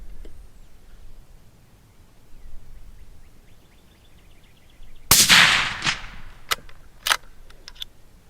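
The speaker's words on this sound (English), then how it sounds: "Even suppressed, these things still make quite a bit of noise." A single suppressed shot from a Tikka T3 rifle in .243 Win, a sharp, loud crack followed by a short echo tail, then a few faint metallic clicks of the action after a quiet lead-in.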